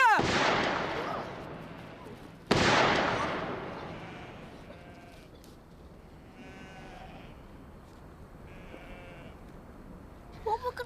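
Two loud gunshots in a 1960s Yorkshire police drama, one at the start and another sharp bang a couple of seconds later, each ringing out and fading, followed by quieter background sounds.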